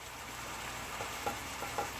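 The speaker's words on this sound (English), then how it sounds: "We're gonna let that sizzle for a little bit on that side" Chicken pieces sizzling in a hot frying pan for mesquite chicken: a steady, even crackling hiss with a few soft pops and stirring clicks, close and alone.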